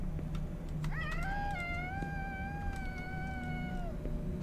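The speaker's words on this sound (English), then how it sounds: "A cat? Was that a cat?" Cat meowing in a video game set in a small neighborhood: a single long, drawn-out meow that rises and then holds steady for about three seconds, moderately loud over a constant low background hum.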